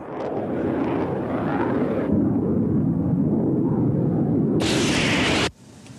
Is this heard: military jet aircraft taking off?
yes